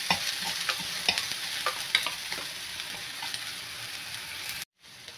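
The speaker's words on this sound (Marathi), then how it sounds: "याच्यामध्ये हे सगळी पेस्ट आपल्याला याच्यामध्ये घालून घ्यायची आहे. चांगली परतून घ्यायची आहे पेस्ट. चांगलं तेल सुटून द्यायचं आहे." Spice paste with onions sautés in oil for an egg tawa masala. A steady sizzle runs under spoon stirring and scraping, cuts off abruptly near the end, and no one speaks.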